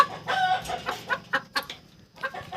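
A hen clucks near her freshly laid small egg, a string of short close clucks with soft pauses and faint background hum.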